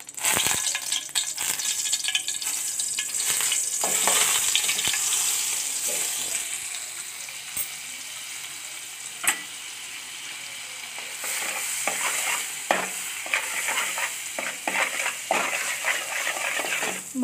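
Butter melting and sizzling with white oil in a pan for a spicy chicken soup, a steady close frying hiss with scattered crackles and pops throughout, no talking.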